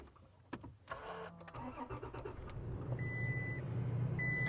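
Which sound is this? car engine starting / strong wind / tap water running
car engine starting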